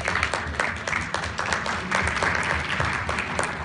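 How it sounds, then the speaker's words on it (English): An audience at a Richmond singing competition applauds the visiting judges Moni and Kuldeep Gill, steady scattered clapping over a low background hum. "Big round of applause for Moni and Kuldeep Gill."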